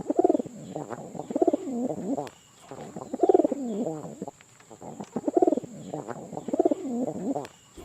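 Lahore fancy pigeon cooing in repeated rolling phrases, close and clear, in bursts separated by short pauses, with a faint steady hiss in the background.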